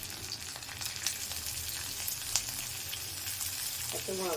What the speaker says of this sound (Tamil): நல்லா சீரகம் பொரிஞ்சிடுச்சு பாருங்கள்